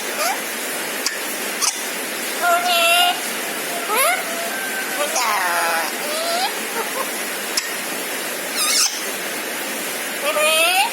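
Heavy rain pours outside as an even, close hiss throughout, while a pet parrot's repeated whistles and squawks rise over it every few seconds.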